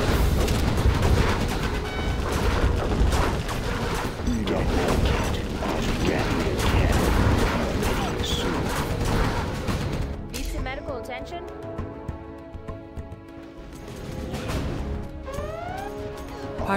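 Particle cannon firing in a strategy video game, a dense, sustained barrage of loud crashing blasts and mechanical clatter that gives way to sparser electronic zaps and sweeps, with in-game voice lines mixed in.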